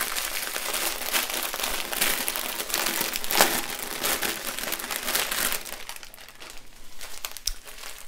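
A plastic pack of diamond painting drills crinkles and crumples close up as it is handled, in irregular bursts that ease off toward the end, with no talk.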